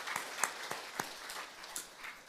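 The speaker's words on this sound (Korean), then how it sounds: "우리 하나님께 감사와 영광의 박수를 드리고 곳곳에서 숨어서 수고하신 모든 분들 격려의 박수로 다시 한번 드리도록 하겠습니다." Faint, scattered clapping from a Korean church congregation during a Sunday service, a few distinct claps over a soft background with no speech.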